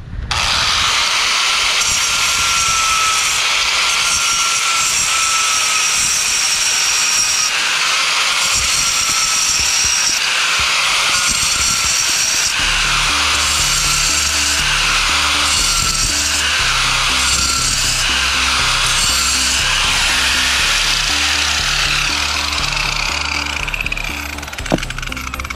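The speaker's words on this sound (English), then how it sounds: "Let's try to grind some of this out. So I just got a little angle grinder here." A small angle grinder grinding a fire pit, harsh abrasive whine rising and falling in repeated passes, loud and close throughout, with a rhythmic pulsing clatter joining midway.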